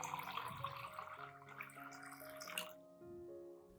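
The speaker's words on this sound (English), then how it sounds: "add 1 liter of clean water at room temperature to dilute the solution" A liter of room-temperature clean water is poured into a coffee-grounds fertilizer solution for orchids, giving a soft, steady splashing pour that stops near the end, under quiet background music.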